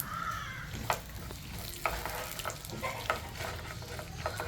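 Mustard seeds splutter and crackle in hot oil while being fried for a garlic pickle, giving a continuous sizzle broken by sharper pops and stirring knocks. No one speaks.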